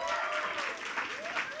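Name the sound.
applause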